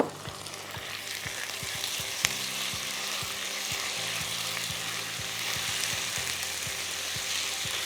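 Chicken pieces fry with onions in a hot pan, giving a steady, dense sizzle throughout, with scattered spatter pops and one sharp crackle near the start.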